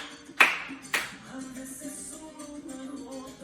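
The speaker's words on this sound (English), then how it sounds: "Again, 3 claps." Two sharp hand claps ring out close together over a steady music bed during a senior fitness Latin dance class, then the music carries on alone.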